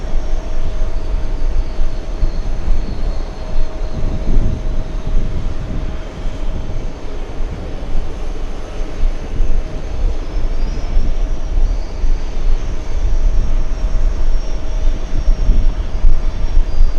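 Airliner engines roar steadily at JFK airport in New York, a broad, sustained jet rumble that holds loud and continuous throughout, with no voices over it.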